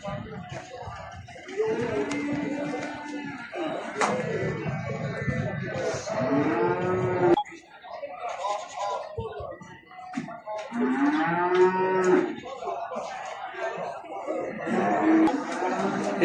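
Calves at a livestock market moo repeatedly in long, drawn-out calls, close and loud, with people talking and chuckling between the bellows.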